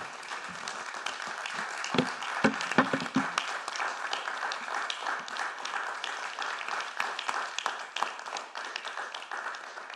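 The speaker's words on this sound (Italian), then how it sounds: "Volevo sollecitare un applauso, ma è stato, è stato autonomo" Steady applause from a crowd fills the whole stretch, dense and continuous clapping with a few louder hand claps near the start.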